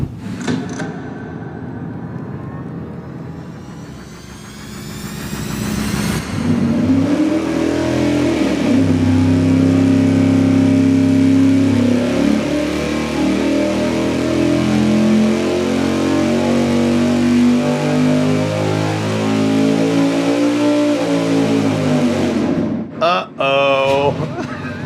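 Big-block engine fitted with an Edelbrock Super Victor 2 intake manifold, revving on a dyno: a low idle rising into a sustained loud roar for about fifteen seconds, then cutting off abruptly, close and powerful.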